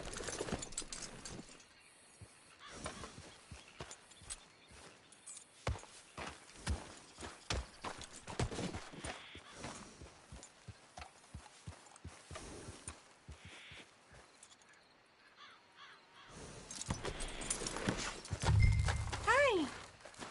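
Horse hooves clip-clop in the video game Red Dead, a rhythmic run of sharp hoofbeats that speeds up and slows, with a whinny and spoken voices mixed in near the end.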